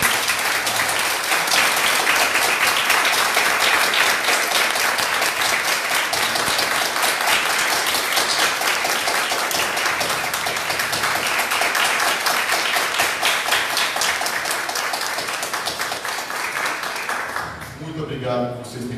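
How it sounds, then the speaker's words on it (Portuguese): Sustained audience applause fills a medical society's auditorium in Campinas after an evening discussion event, dense steady clapping that continues strongly and fades out near the end. "Eu queria uma salva de palmas"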